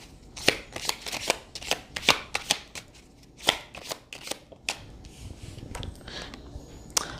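Tarot cards being shuffled by hand in a run of sharp riffling bursts and soft slaps, close and fairly loud, with short pauses between bursts and no talking.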